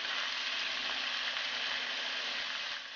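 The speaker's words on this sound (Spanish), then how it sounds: "Añadimos nuestra carne picada y marinada. Vamos a esperar unos minutitos, nada más la desprendemos para que se empiece a sellar." Marinated minced meat sears in a hot pan on high flame, giving a steady, dense sizzle that holds even throughout without stirring, at close range.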